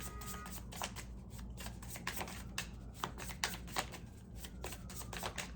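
Tarot cards are shuffled in quick riffling bursts, a crisp papery flutter repeating several times, close and fairly quiet.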